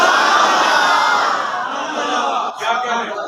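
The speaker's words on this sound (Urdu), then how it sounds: "تم بڑے نعرے مار رہے ہیں" A large crowd at a religious gathering roars slogans in unison, loud and sustained, with a brief dip before voices surge again.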